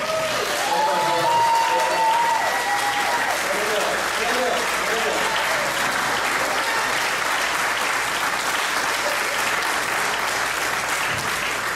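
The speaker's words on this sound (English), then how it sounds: "Please applaud" An audience at a senator's 55th birthday celebration applauds in a thick, continuous wash of clapping that lasts over ten seconds, with a voice briefly audible at the start.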